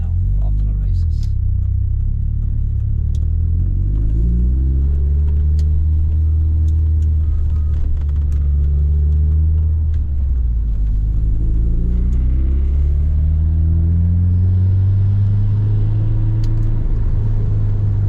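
A Ford Sierra RS Cosworth engine drones steadily from inside the car as it pulls away and runs through the gears, with rising and falling pitch under each shift and a loud, constant rumble throughout.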